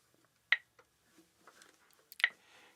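Metronome ticking at 35 beats per minute during ukulele rhythm practice: two sharp, isolated clicks about 1.7 seconds apart, quiet and alone with no voice or strumming.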